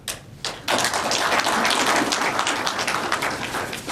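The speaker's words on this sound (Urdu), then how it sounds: "سارے اجلاس میں پہلی مرتبہ آپ نے تالی بجائی ہے." Audience applause at a ceremony in Islamabad, a dense burst of many hands clapping that starts after a brief tap and carries on steadily and loudly to the end.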